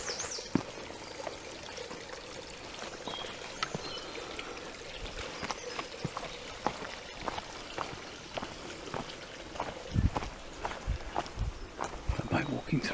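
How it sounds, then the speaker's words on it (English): A woodland brook near Haslemere runs with a faint, steady trickle and babble, heard softly at a distance while footsteps crunch along the path throughout. "Sound of running water."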